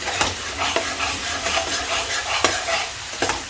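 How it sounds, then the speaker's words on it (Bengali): Curry with spices and a splash of water is stirred and sautéed in a pan, giving a steady close sizzle broken by repeated scraping strokes of a spoon, with no talking. "এবার আমি এটাকে নাড়া করে মশলার সঙ্গে কষিয়ে নিচ্ছি"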